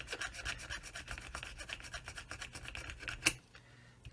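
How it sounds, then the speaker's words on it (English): Steady back-and-forth rasping of a sanding stick rubbing against a hard 1/35 scale plastic model kit, close up, with a sharp click near the end before it stops. "sanding stick's your friend here"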